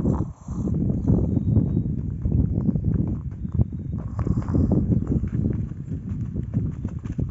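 Steady clip-clop of horse hooves walking on ground at a farm, close and continuous, with a faint rushing background.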